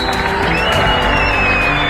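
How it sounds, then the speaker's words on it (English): An outdoor conference audience claps and cheers in a dense, continuous wash of applause. "Let's clap it up for these guys."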